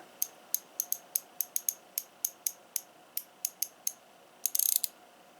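Quick light clicks of a 1/4-inch drive round head ratchet with about 45 teeth, a steady series of small ticks followed by a brief rapid buzzing spin at the end.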